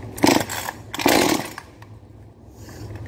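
Small primed and choked engine, apparently a chainsaw, gives two loud rasping pulls, each a short sputter of about half a second, then quiets to a low idle-like rumble.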